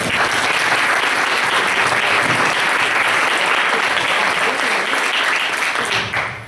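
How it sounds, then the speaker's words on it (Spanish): Loud, sustained audience applause at a lecture on relics, a dense steady wash of many hands clapping close by that tapers off at the end. "Un fuerte aplauso"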